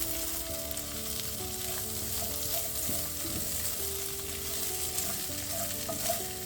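Parsnips and carrots sizzle steadily in a hot pan while being stirred, a close, continuous frying crackle with occasional scraping, no voices.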